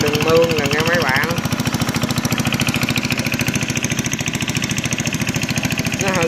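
A homemade loading machine's engine runs beside a canal, a loud, fast, even thumping chug that carries on steadily, with someone talking over it.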